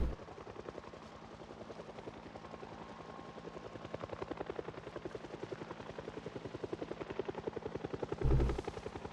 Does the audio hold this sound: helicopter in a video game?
yes